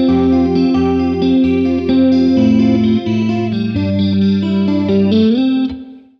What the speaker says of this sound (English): we want the reverb just to give it some space, so we're going to be using the Meris Mercury 7 here